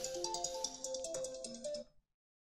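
A phone ringtone plays a bright, repeating electronic melody at moderate level, steady for about two seconds before cutting off abruptly into silence.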